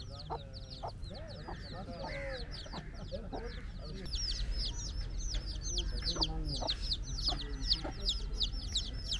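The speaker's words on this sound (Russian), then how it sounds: "Маленькое счастье мне, городскому жителю, увидеть курицу с цыплятами." A hen clucks among her chicks in Eilat, Israel, with low repeated clucks and a steady chorus of high, thin peeping from the chicks. A faint voice murmurs in the background and the scene is quiet overall.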